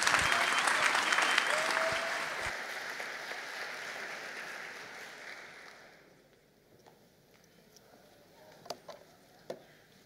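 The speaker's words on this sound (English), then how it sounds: "Please cheer for Karīna Krūmiņa, International Student Mentor" A graduation ceremony crowd applauds loudly at first, the clapping thinning and fading out over several seconds, followed by near quiet with a few isolated claps.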